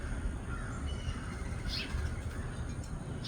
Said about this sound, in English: There's some crows across the street that are cawing and doing their thing.